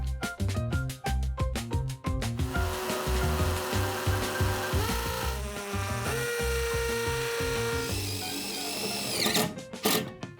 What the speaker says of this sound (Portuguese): Depois eu vou usar esses parafusos de metal para segurar tudo na posição.